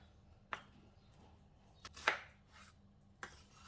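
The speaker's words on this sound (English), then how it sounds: "Cut the yellow onion into 8 pieces." A knife cuts a yellow onion into pieces on a board, giving a few separate crisp chops spaced out over a few seconds, close and fairly quiet.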